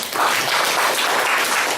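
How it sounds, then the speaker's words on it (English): A dialogue audience on Greater Bukedi tourism breaks into loud, dense clapping for the Uganda Wildlife Society, a sustained close burst of many hands without speech. "If you can do a new clap for them."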